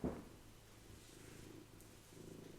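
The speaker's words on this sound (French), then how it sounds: "ça fait ronronner tout ça" A cat purrs softly while resting on a person's lap indoors, a low steady rumble that stays faint and continuous throughout, with a brief rustle at the start.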